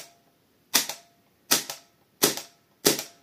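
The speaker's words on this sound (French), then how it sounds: "on entend quand même tout le bruit du système, qui est un clic" Airsoft replica firing system giving four sharp, evenly spaced mechanical clicks, each a crisp close snap with a short rattling decay, in otherwise quiet surroundings.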